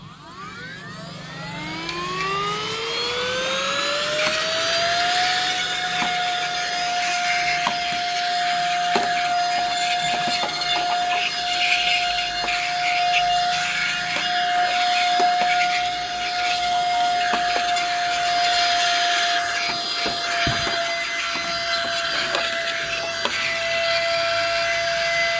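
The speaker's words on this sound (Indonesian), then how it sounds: "ini saya bersihkan pakai ini penyedot debu kecil" A small handheld vacuum cleaner's motor whines up in pitch, then holds a steady high hum for a long stretch, loud and close, with faint rubbing and clicking, cleaning dust inside an LED television.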